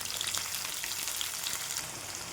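Onion frying in hot oil with a mustard seed and cumin tempering for puri bhaji, a steady close crackling sizzle with no talk.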